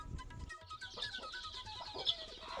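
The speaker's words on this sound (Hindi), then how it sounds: "ये एक मुर्गियों का परिवार है।" A hen clucks softly while chicks peep in high, thin cheeps, a small chicken family heard close and quiet with no talking.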